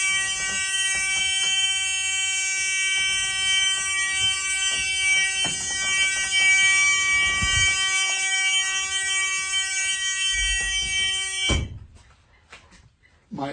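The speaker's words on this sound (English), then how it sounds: "I'm going to open the door and the buzzer will sound." A truck's door-open buzzer drones continuously and steadily for about eleven seconds, a loud, harmonic-rich tone, then stops abruptly, followed by faint clicks and handling sounds.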